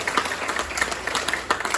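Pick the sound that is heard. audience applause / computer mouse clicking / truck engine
audience applause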